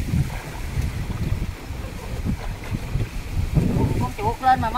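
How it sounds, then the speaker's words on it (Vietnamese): Gusty wind buffets the microphone outdoors by the water in rural western Vietnam, rising and falling in uneven bursts, with voices talking near the end. "Quá cái gió này."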